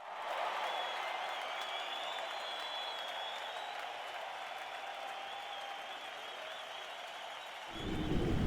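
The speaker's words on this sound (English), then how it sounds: "The walls of the ring then lower as the crowd cheers for the upcoming bloodbath" A game arena crowd in Yakuza 4 roars and applauds before a death match, a dense, steady wall of cheering that holds for several seconds before a deep rumble swells at the end.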